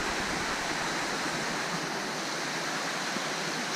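Steady rushing of a river tumbling downhill along the Chiquitos Trail, a dense, unbroken broadband roar close by and fairly loud, with no voices.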